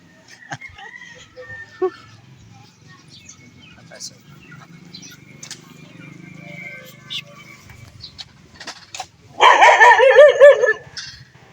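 A dog barks in a short burst of loud, rapid barks near the end, after a stretch of quiet outdoor sounds with scattered faint noises.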